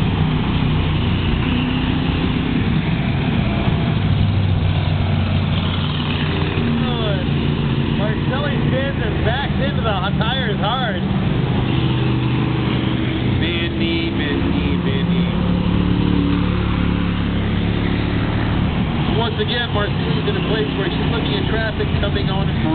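Race cars in a 200-lap Pumpkin Smash enduro at Lakeport Speedway, Lakeport, California, drone and rumble steadily under continuous announcer commentary, engines rising and falling as cars circle the track.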